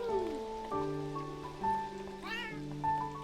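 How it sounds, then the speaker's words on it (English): A cat meows in the video game Beyond Eyes, one drawn-out rising and falling meow heard over soft rain and gentle layered game music, with a person talking briefly. "A cat."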